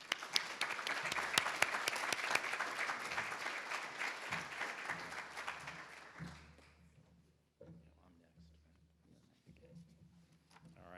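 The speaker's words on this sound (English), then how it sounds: "let's have one more round of applause for our newest members of the Davenport Society" Applause at a dinner welcoming new Davenport Society members, a dense crowd clapping loudly for about six seconds, then thinning and fading out to a quiet room with faint murmurs.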